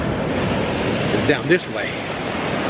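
Ocean surf rolls in steadily on Kure Beach at high tide, a loud continuous wash with brief gusts, while a person speaks a few words over it.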